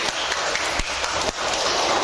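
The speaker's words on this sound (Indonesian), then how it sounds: "tepuk tangan buat temannya" Schoolchildren in a classroom clapping for a classmate, a dense, loud burst of many small hands filling the whole moment with a few sharper claps standing out.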